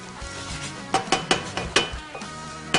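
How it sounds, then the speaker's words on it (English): Eggs being mixed around in a frying pan for a paleo breakfast, with a soft background sizzle and several distinct clinks and scrapes of a utensil against the pan in an uneven rhythm. "Now here, I'm going to kind of mix this around, make sure you get all the loose eggs kind of tightened up."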